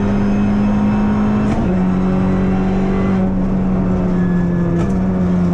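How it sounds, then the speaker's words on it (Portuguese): Kia Ceed GT Cup race car at Portimão circuit, its engine droning loud and steady close by as it pulls away at the race start, pitch shifting slightly with each gear change, with no voices. "Hoje, com uma corrida no Kia Ceed GT Cup, em Portimão."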